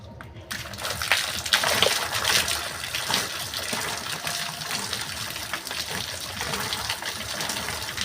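Water gushes and splashes steadily as it is drawn and poured for a ritual bath on Makar Sankranti, a continuous loud broadband rush with small splashy surges throughout.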